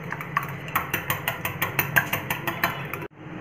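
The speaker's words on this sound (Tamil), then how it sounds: "இந்த மாதிரி நல்லா அடிச்சுக்கோங்க" Eggs beaten with salt, chilli powder and pepper powder for egg kalakki, a fork or spoon clicking rapidly and steadily against the bowl, close and alone, before stopping abruptly.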